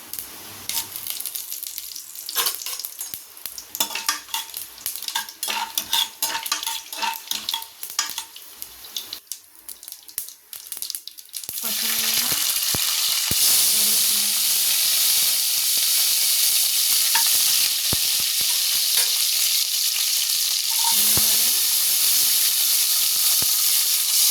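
Mustard seeds and fenugreek crackle and sizzle in a hot pan with scraping stirs while making Chettinad sambar, then a steady loud hiss of frying takes over for the rest.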